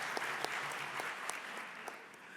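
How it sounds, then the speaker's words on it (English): Conference audience in a hall claps together, a steady wash of applause with sharp individual claps standing out, moderately loud and sustained throughout. "Give yourselves a round of applause for those of you in the room."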